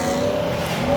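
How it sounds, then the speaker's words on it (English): A Chevrolet Camaro at a truck meet lets out a brief, loud engine note that sustains for about a second. "Another Camaro."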